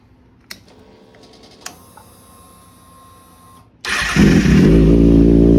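A Kawasaki ZX6R sport bike with an Austin Racing exhaust, baffle removed, clicks and cranks, then fires up into a loud, raspy engine roar close by that rises as the throttle is blipped.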